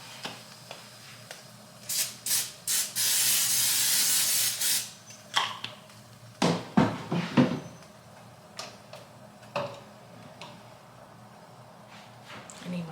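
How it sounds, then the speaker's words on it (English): A spray bottle or cooking spray is misted onto broccoli florets during dinner prep, giving a long hissing burst followed by several shorter spritzes and kitchen clatter. "Let me spray."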